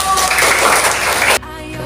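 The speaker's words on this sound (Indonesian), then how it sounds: "Terima kasih, tepuk tangan." Classroom applause at a school, a dense burst of clapping from a group of students that cuts off abruptly near the end, leaving quieter room noise.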